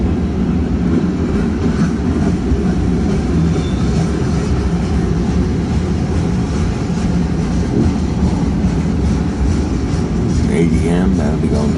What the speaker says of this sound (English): The car was actually laying on this track that this train is on.